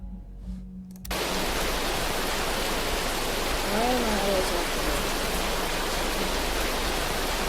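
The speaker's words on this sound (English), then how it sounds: "It's raining pretty bad here. We got some hail coming down." Dense, steady rain with hail roars loudly and continuously in the Roblox game Twisted after a brief quieter start, a heavy downpour filling the scene.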